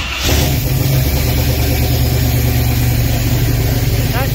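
A car engine fitted with an MSD distributor starts and then runs at a loud, steady idle close by, a constant low rumble with no break throughout.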